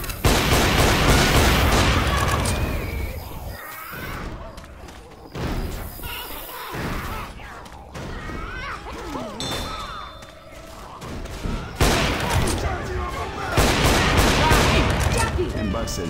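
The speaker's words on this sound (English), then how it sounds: "Throwing a pipe bomb." A pipe bomb exploding in the video game Left 4 Dead 2 amid chaotic gunfire, loud blasts and thuds in heavy bursts with quieter gaps between, voices calling out during the fighting.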